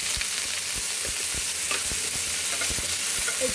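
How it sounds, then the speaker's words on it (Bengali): Onion and mixed vegetables sizzle steadily in hot oil while being stir-fried, with a constant close frying hiss broken by soft, irregular knocks and scrapes of stirring in the pan. "একটু নাড়িয়ে নিচ্ছি, একটু ভাজা ভাজা করে নেব।"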